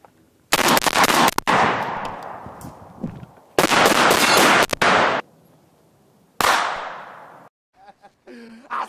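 Film shootout gunfire from Harlem Nights: loud, close bursts of rapid automatic shots in several long volleys separated by brief pauses, each trailing into echo, with shouting voices mixed in.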